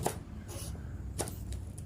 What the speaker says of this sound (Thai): นำพริกจินดามาหั่นเป็นเฉียงๆแบบนี้